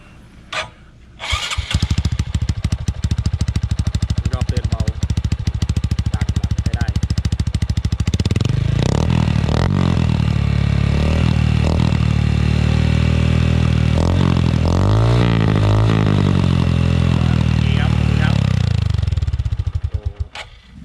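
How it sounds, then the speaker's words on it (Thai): A Honda Wave motorcycle started by its owner, a short cranking burst catching into a loud, close idle that rises into revving with wavering pitch partway through, then cuts off near the end. "น่าจะต้องฟังเสียงเครื่องแล้ว เดี๋ยวให้น้องเจ้าของรถสตาร์ทให้"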